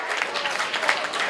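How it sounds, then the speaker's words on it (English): A high school audience applauds a student athlete, with a brief burst of steady, fairly dense clapping at moderate volume. "we can clap it up for that"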